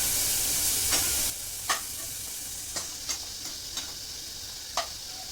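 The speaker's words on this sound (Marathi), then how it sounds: "इकडे कांदा टाकला फ्राय करायला." Onion frying in a pan for vegetable biryani, a steady close sizzle with a few sharp clicks and scrapes of stirring scattered through, no voices.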